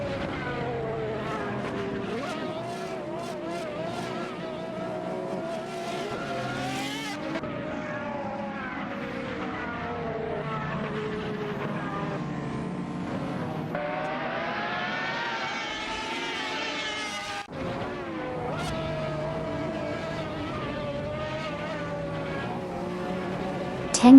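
Several race cars roar through an AI-driven racing video game in a close position battle, their engines droning and sweeping in pitch as they rev and shift, one climbing whine rising sharply before cutting off, continuous and loud throughout.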